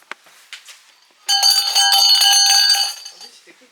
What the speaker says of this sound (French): J'ai bougé cette cloche là, je vais vous montrer.